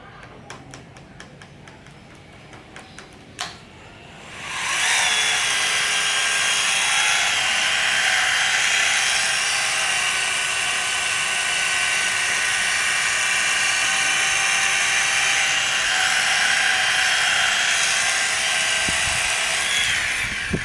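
A machine polisher set to its lowest speed buffs the body panels of a Suzuki Satria FU motorcycle, first a few ticking taps and then a loud, sustained high whine that runs on alone.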